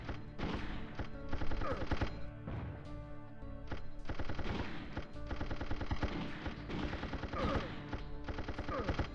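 Rapid bursts of gunfire from the video game Shadow Man rattle loudly and nearly without pause, with dense repeated shots like automatic fire and no talk.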